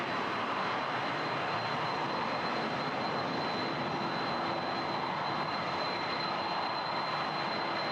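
An Air Canada heavy jet airliner at Toronto Pearson rumbles as a steady broadband engine roar with a thin high whine, constant and moderately distant, with no talk over it.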